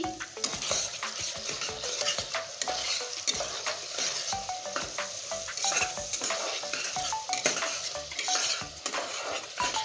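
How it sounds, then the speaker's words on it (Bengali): Fried chicken pieces dropped onto cooked-down spice masala in a pan for chicken curry, sizzling and crackling steadily and fairly loudly, with frequent stirring and scraping of a metal spoon against the pan and no talking. "ভেজে রাখা চিকেনটা এবার দিয়ে দিচ্ছি মশলার উপরে"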